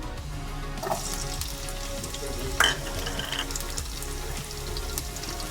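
Finely chopped onions fry in sunflower oil for a South Indian egg curry, giving a soft, steady sizzle with a couple of brief clinks from a utensil, fairly quiet and close.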